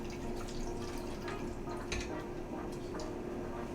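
Hot water pours into a roasting pan around a bowl, a soft trickling and dripping splash, faint and close, with no voices.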